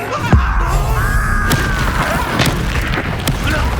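An Incendio fire spell cast in Hogwarts Legacy, a loud booming whoosh of flame with a rising crackling burst, followed by sustained fiery rumble and a few sharp impact hits.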